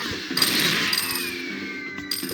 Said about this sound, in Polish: no to piła teraz